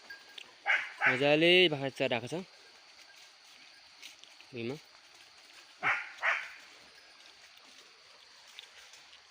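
A dog barks in hilly goat-farming country in Nepal, a short burst of several yips followed by a few single barks, fairly distant over a steady stream rush, with someone talking nearby.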